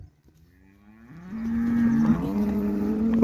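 A cow in a shed on a Saudi cattle farm lets out a single long, rising moo that swells from quiet to loud and holds to the end, with no talking.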